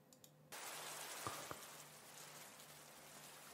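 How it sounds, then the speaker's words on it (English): Ambient rain sound from the neal.fun website, a steady soft hiss of rainfall that starts suddenly and continues evenly, with a couple of faint taps. "Got some rain going."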